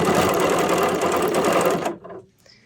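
A serger sewing machine stitches in the ditch along the seams of quilted string blocks, running in a steady, loud mechanical whir for about two seconds before stopping abruptly, followed by brief faint handling noise.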